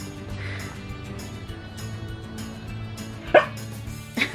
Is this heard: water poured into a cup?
no